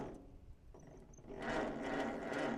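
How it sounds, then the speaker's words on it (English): A weak starter slowly cranks the engine of an old Allis Chalmers tractor, a quiet rhythmic churning that swells louder after a brief pause. "Seems like that starter's pretty weak."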